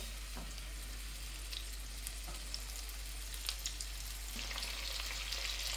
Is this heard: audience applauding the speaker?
no